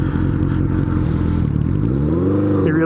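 A Honda Nighthawk motorcycle engine idles and revs, its steady low rumble rising in pitch near the end, close and loud with no talk.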